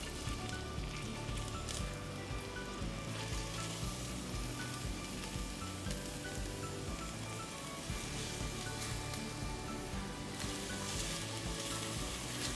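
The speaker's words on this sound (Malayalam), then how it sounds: "എണ്ണ ചൂടായി കഴിയുമ്പോൾ ചെറിയ ഉള്ളി ഇടുക." Shallots sizzling and frying in hot oil for a chicken curry, a dense, steady crackle and hiss that holds evenly throughout with no talking.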